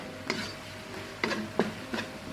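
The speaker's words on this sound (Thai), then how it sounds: "เรากวนจนข้าวแห้งประมาณนี้นะคะ" Cooked rice being stirred in a pan until dry for a pandan-filled sweet, four separate soft scrapes of a spatula against the pan over a faint low background, quiet and close.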